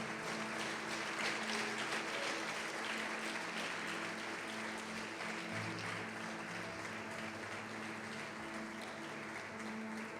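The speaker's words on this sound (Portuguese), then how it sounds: "Pode aplaudir, glorificar o Senhor por isso." A church congregation applauds in a steady, dense wash of clapping that lasts throughout, faint and distant-sounding, with low hum and murmur beneath.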